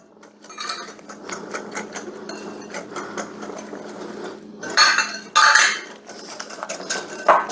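Four eggs and sugar are mixed in a bowl for an impossible coconut pie, giving a steady clatter of utensil against bowl that grows louder in bursts near the end.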